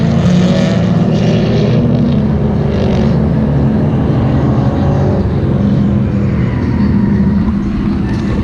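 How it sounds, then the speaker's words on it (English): Go-karts roaring around a track while drifting, a loud, dense, continuous engine drone filling the whole stretch with steady buzzing motor noise and no pauses. "it's pretty fucking cool to be at a go-kart track while they're drifting"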